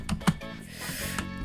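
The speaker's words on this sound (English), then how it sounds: "I'm gonna try spam clicking." A computer mouse is spam-clicked rapidly during a game, giving a few quick, close, light clicks in an irregular burst.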